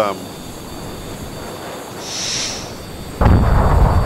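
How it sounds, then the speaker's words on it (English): A jet breaks the sound barrier in the game Homebrew Vehicle Sandbox: a soft rising whoosh swells, then a sudden loud, deep boom hits and rolls on as a heavy broadband roar to the end. "let's broke the sound barrier again"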